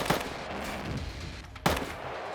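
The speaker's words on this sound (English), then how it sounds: "That's them firing." Gunfire during a firefight in the video game Star Citizen, two sharp, fairly distant shots about a second and a half apart over a steady background rumble, with no talking.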